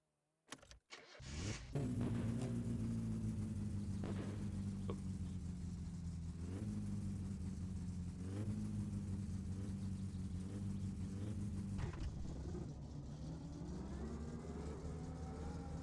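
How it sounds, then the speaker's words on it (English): A car engine in reverse gear in the video game My Summer Car starts up and whines steadily, with a strained drone that rises and dips for about fifteen seconds, alone and fairly faint. "If you put a car into reverse gear, it's always like, what the fuck is happening?"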